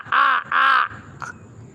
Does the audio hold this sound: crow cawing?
yes